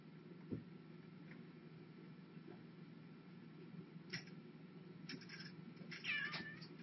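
Pet cats meow softly a few times in a quiet home, brief faint calls over a low steady hum, with no talking.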